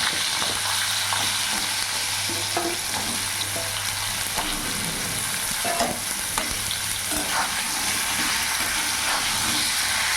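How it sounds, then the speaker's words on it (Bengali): Pointed gourd pieces frying lightly in refined oil with salt and turmeric, giving a steady, loud, close sizzle that runs unbroken throughout with faint stirring scrapes. "পটলগুলো একটু হালকা লাল লাল করে ভেজে নেবো, খুব ডিপ ফ্রাই করবো না, হালকা ফ্রাই করবো।"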